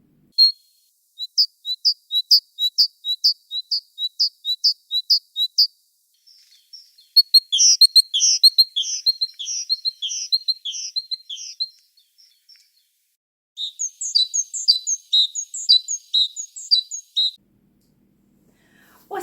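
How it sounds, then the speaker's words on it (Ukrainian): A great tit singing, delivering bright, high, repeated phrases in several bursts separated by short pauses; loud and close, the song alone with no other sounds. "Ось така наша пташка-синичка, співуча та красива."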